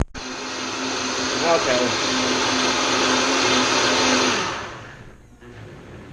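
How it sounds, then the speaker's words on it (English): Blender whirring through a protein shake, a loud steady motor roar for several seconds that winds down and stops near the end, with a brief spoken word toward the close. "So I'll come back when this is done blending."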